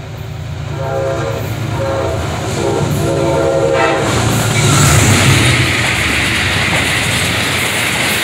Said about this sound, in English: Here goes the Amtrak.